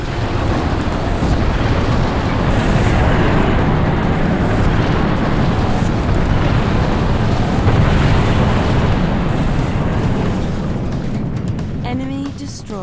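An orbital MAC cannon strike in the real-time strategy game Halo Wars lands as a loud, sustained explosive roar that rumbles heavily for about twelve seconds before fading, and a voice then speaks briefly.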